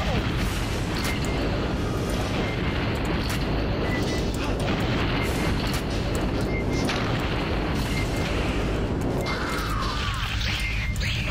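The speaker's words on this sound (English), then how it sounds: "Rocket launcher." Heavy booming blasts and crashes from rocket launcher fire in the 2000 PC game Aliens Vs. Predator Classic, a loud dense continuous rumble of explosions with no pauses.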